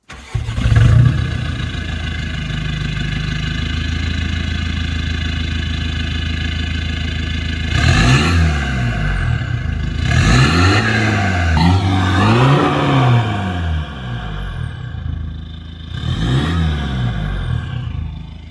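The diesel engine of a 2007 Seat Leon FR cranks and catches, then settles into a steady, close idle. Three sharp revs follow, each rising and falling back down, loud and near, with no talking.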